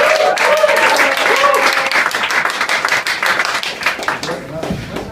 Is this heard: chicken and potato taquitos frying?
no